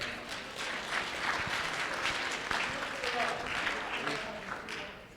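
An audience at a K-12 education forum claps for a speaker, with steady applause building and fading over several seconds.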